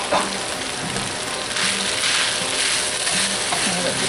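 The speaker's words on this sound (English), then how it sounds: "Now let this fry up a little bit." Bacon fried rice with steamed carrots and peas sizzling steadily in a cast iron pan, a close, continuous crackle and hiss with faint stirring scrapes, no voices.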